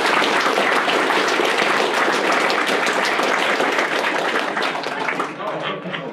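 A convention panel audience at Eurofurence 2017 breaks into dense, loud applause, a steady wash of many clapping hands that thins and fades over the last second.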